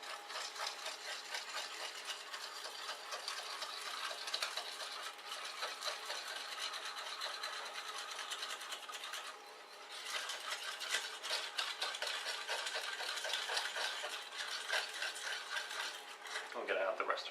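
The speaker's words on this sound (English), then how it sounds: "So we're going to whisk in the yogurt bit by bit, I think." Yogurt is whisked into a banitsa mixture in a bowl, giving a rapid continuous metallic whirring and clinking that runs nearly throughout, with a short dip midway.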